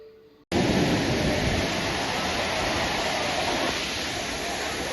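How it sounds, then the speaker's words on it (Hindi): Heavy rain pours at Sundha Mata in Rajasthan, a loud, dense, steady roar that starts abruptly and continues unbroken, with possible thunder rumbling beneath it. "सुंधा माता में जोरदार बारिश"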